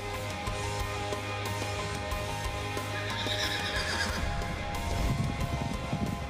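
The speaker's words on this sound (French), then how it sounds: "Ce cheval ressemblait à une licorne." A horse whinnies loudly and steadily while hooves clip-clop beneath it, set against a dense, full soundtrack with no talking.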